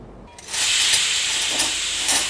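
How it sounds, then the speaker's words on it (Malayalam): Steam rushes from a pressure cooker on the stove, where colocasia stalks simmer in water for payasam; a loud, steady hiss starts abruptly and holds close by with slight surges. "കുക്കർ അടച്ചിട്ട് നമുക്കൊരു നാല് വിസിൽ വരുന്നവരെ വെയിറ്റ് ചെയ്യാം"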